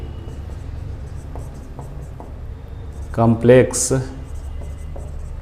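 Faint scratching of writing on a board during a math lesson on complex numbers, light rhythmic strokes running throughout with a brief burst of speech from a teacher in the middle.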